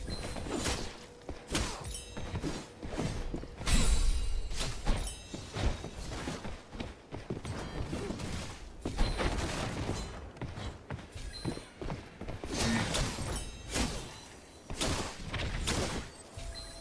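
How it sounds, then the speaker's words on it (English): Combat in the video game Mistfall Hunter with a delayed explosion, scattered thuds, crashes and whooshes at moderate loudness across the whole stretch, with impacts arriving irregularly rather than in any steady rhythm. "that delayed explosion is so nice for PvP"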